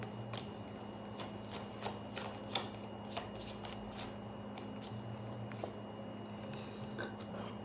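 Manifest Soulmate Oracle card deck being shuffled by hand, a quiet run of crisp riffling flicks and snaps in an irregular rhythm over a steady low hum, close and fairly soft.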